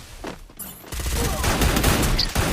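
Sniper gunfire in a battle royale video game tournament match: a burst of loud gunshots rings out near the start, followed by dense, continuous rattling fire with a short voice heard faintly under it.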